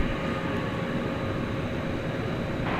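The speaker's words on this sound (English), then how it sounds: "we have our first Spirit Airlines flight of our evening" Spirit Airlines Airbus A321neo jet at DFW Airport at night, a steady broadband engine roar that holds at an even level throughout, fairly close and continuous.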